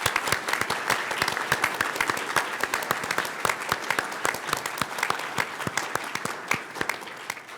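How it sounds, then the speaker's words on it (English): Attendees at an IETF administrative plenary applaud the standing NomCom volunteers. Individual hand claps come through distinctly in a moderate, steady patter from a modest crowd in a large room. "can I ask those in the NomCom who are in the room to stand up so that they can be seen? And I went hoping to give them a round of applause"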